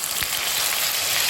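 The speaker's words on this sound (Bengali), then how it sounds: "মশলা ফোড়ন দিলাম আর একটু গোটা জিরে দিলাম।" Whole spices and cumin seeds tempering in hot oil, giving a steady, close, bright crackling sizzle with a few faint pops and no speech.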